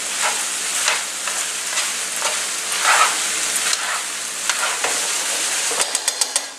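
Ground beef and onions fry in a pan with a steady close sizzle, stirred now and then with soft scraping, and a few sharp utensil taps on the pan near the end.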